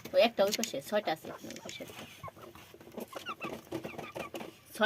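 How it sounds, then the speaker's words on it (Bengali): Desi hens and a rooster in a rooftop coop cluck in short, close, uneven bursts, mixed in with someone talking nearby. "6টা মুরগির জন্য একটা মোরগ।"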